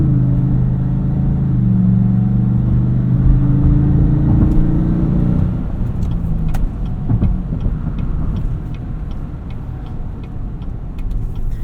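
A 2018 Chevrolet Tahoe RST Performance Edition SUV takes corners, heard from inside the cabin: a loud engine drone swells and shifts pitch, then gives way to lighter road rumble with scattered ticks and knocks.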